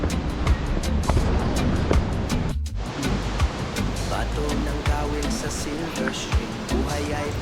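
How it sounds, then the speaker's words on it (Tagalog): Watson Falls, a waterfall in Oregon, makes a steady, dense roar of falling water. It is loud and continuous, with a brief dip partway through, and a voice may be faintly present beneath it. "At Watson Falls"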